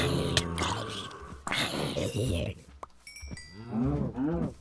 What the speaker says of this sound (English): I found cows.